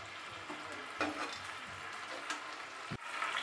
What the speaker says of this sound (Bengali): এবারে আমি ফ্রাই করে রাখা চিকেন ড্রামস্টিক গুলো এর মধ্যে দিয়ে দিলাম।